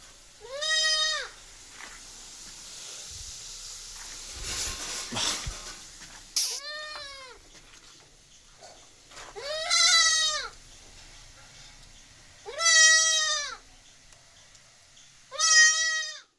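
Dairy goats and young kids at a farm near Manjeri, Kerala, bleating in five loud, clear calls spaced a few seconds apart, with quiet shuffling between them.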